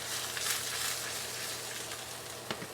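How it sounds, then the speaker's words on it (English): Steak searing in a stainless steel pan on an induction hob, a steady, fairly soft sizzle with a couple of small pops. "Especially with stainless steel and induction, you're going to get a super even sear"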